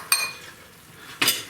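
A fork clinks twice against a pot of Italian wedding soup, two sharp metallic taps about a second apart with quiet between.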